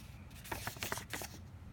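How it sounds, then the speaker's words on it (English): Playing cards being shuffled by hand during a trivia game, a short burst of quick riffling flutters and soft snaps, close and fairly quiet with no talk over it. "So we're shuffling the cards."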